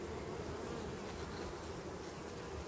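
Honeybees buzz steadily around a hive frame full of honey in a colony prepared for wintering, a continuous close, even drone with no voices.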